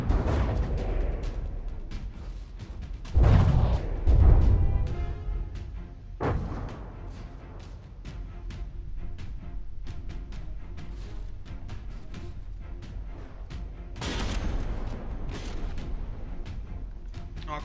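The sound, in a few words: explosions and gunfire in the video game From the Depths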